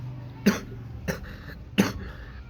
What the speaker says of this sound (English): sorry, a little bit of a cough.